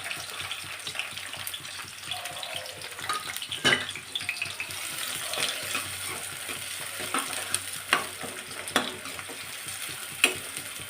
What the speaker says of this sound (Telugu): నూనె ఈటెక్కిన తర్వాత దీంట్లో కొంచెం పచ్చిమిర్చి అలానే సన్న తడివిన ఆనియన్స్ కూడా వేసుకోవాలి